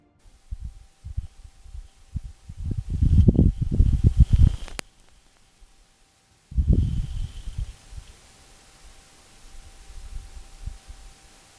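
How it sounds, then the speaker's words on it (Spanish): Martian dust devil wind recorded by the Perseverance rover on Mars, heard as two low rumbling, buffeting gusts separated by a near-silent gap, with a faint steady hum underneath. "También ha tenido tiempo de grabar el sonido emitido por un remolino de viento marciano"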